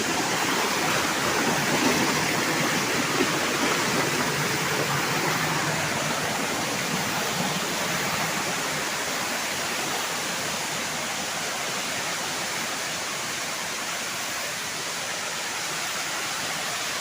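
Water rushes continuously at a waterfall or fast stream, a loud, broad, unbroken roar that stays close and steady throughout with no other sounds standing out.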